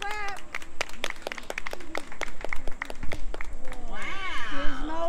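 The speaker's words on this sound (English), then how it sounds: "let's have a big round of applause for," Children clapping for a robot's appearance, sharp separate claps in an uneven rhythm that fill out into a busier patter, with a high excited voice rising near the end.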